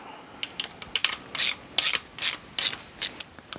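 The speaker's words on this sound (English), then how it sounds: "I'll just use this one today to at least get these seated, because it is a nice ratchet." A Husky ratchet clicking as it seats the bolts on an LS engine build, with several quick bursts of sharp, close pawl ticks in a steady back-and-forth rhythm.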